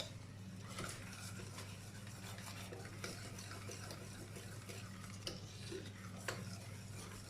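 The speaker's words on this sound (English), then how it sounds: "you're going to make sure to whisk them as fast as you can with the cream" Egg yolks whisked quickly into cream for Greek bugatsa: a quiet, steady scraping and clicking of a whisk against the bowl, rhythmic and continuous, with no talk.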